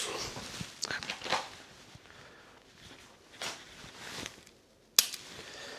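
A handgun's trigger clicks once, crisp and close, during at-home dry-fire draw practice, preceded by softer rustling and handling noises of the gun being brought up.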